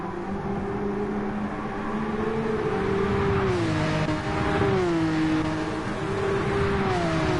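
Porsche Cup race cars on a wet Red Bull Ring, running close together in a line, drone continuously as their engine pitch climbs and falls through gear changes, with several engines overlapping.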